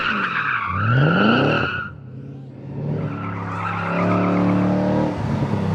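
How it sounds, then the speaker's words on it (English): A Mustang Motorsport Tarmac Rally GT, a big car with a live rear axle, slides through tight turns at a street car invitational, with loud squealing tires over a revving, shifting engine that drops briefly before climbing again. "It's a big car with live axle rear end, so tight turns are a struggle, unless rear slides are lending a helping hand."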